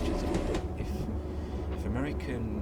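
Union Pacific passenger train running through Cajon Pass in Train Simulator Classic, a steady low rumble of wheels and engine with faint rail clatter, heard under someone talking.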